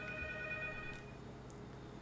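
A telephone rings in the horror game P.T., a faint, thin electronic trill heard alone over low background hum for a couple of seconds.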